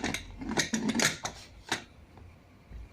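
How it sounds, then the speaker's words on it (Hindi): A short run of metallic clicks and clatters as a pressure cooker lid is fitted and locked, several quick taps then a final click before quiet. "जब उसके ढक्कन लगाते हैं"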